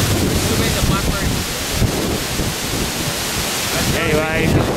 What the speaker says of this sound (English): Anyway, it's too windy.